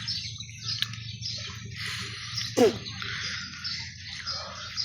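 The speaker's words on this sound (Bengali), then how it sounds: "সাথে আছে পাখিদের কিচিরমিচির ডাক।" Birds chirp in a green garden among jackfruit trees, scattered tweets and one sharp squawk near the middle over a faint steady insect drone, no talking.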